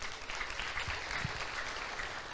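A church congregation claps for the Lord during a sermon, a steady crowd of applause lasting a couple of seconds, with the speaker silent and no talk over it.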